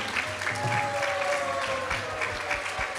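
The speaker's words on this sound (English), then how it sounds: "Give a big round of applause" A crowd claps steadily and densely for a few seconds after a spiritual discourse, a full round of applause filling the room with a faint tone underneath.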